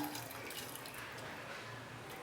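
Cooked pavta bean curry (varnachi amti) pours into a pot in a soft, steady liquid wash that stays faint and unbroken for a couple of seconds, with no talk.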